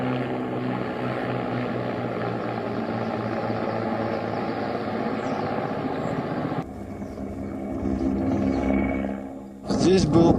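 Russian military helicopters flying over Ukraine produce a loud, steady rotor and engine roar that drops abruptly partway through, then swells again toward the end.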